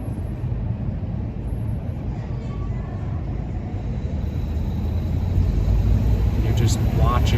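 Steady street traffic from cars passing along a city street, a continuous low rumble that swells louder toward the end, with the hum of people and music in the background.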